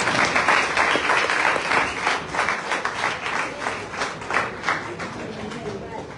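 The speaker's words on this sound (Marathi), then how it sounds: "टाळ्यांचा कडकडाट व्हायला पाहिजे" Crowd applause at a school ceremony honouring students who passed their board exams, with many hands clapping in a rhythmic, steady rumble that swells and eases slightly, fairly close and sustained throughout.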